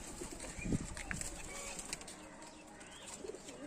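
Kalanka pigeons startled into movement, giving faint, brief bird calls and a soft flutter over a low, steady background, fairly distant and quiet.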